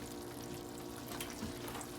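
Butter sizzles and crackles steadily in a hot pan on the stovetop, a soft continuous frying hiss with no talking.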